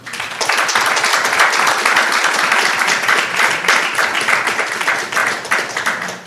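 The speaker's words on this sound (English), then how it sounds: "So give yourself a round of applause." Audience at a research Q&A session gives a sustained round of applause, dense loud clapping from many hands lasting several seconds, close and steady without talk.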